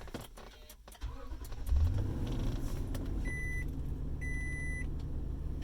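A 2020 Toyota Sequoia TRD Pro engine cranks and starts, settling into a low, steady idle heard from inside the cabin, with a few chime-like electronic beeps sounding over it.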